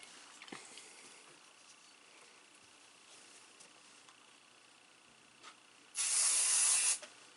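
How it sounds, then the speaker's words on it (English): 505 spray adhesive sprayed onto quilt batting and muslin, a single loud hissing burst of about a second after a quiet stretch with faint handling noises. "And I'm going to use my 505 spray"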